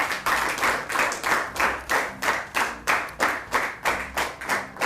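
An audience at a school debate in Gotel, Adamawa State, claps in a strong, regular rhythm of about two claps per second. The synchronized claps are loud and close, with a faint low hum underneath.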